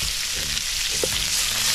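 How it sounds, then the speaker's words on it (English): Fresh thyme, onion, carrot, pimento seed and scotch bonnet pepper sauteing in a pot outdoors, a continuous close sizzle with a brief stir. "So I'm going to add some fresh thyme. onion, carrot, pimento seed, scotch bonnet pepper. So I will saute them."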